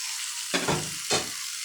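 Pointed gourd, potato and tomato stirred into a frying fish curry masala: a steady sizzle with two scraping strokes of the spoon through the pan, close and moderately loud, no talking.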